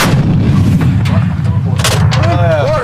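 A US Army M777 howitzer fires, giving a loud artillery boom with a heavy rumbling tail. Crew members shout commands over it.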